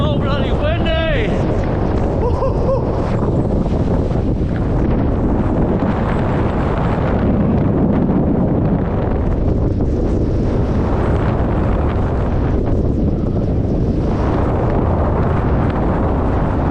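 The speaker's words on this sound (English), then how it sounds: "It's so bloody windy." Strong mountain wind on New Zealand's Tongariro Alpine Crossing roars and buffets the microphone nonstop, a heavy, rumbling gusting, with a voice speaking briefly beneath it.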